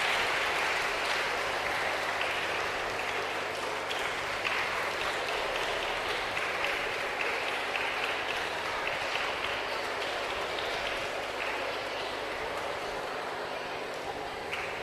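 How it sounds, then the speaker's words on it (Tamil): Audience at a children's science congress applauds as two guests walk up onto the stage, a steady, moderately distant wash of clapping that holds evenly throughout. "அவர்கள் இருவரையும் நல்ல பலமா கைத்தட்டி, நல்ல கைத்தட்டுங்க."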